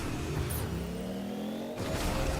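Car driven in the Fortnite video game, its engine droning and revving steadily for a couple of seconds, with a brief whooshing pass partway through and game sounds layered around it.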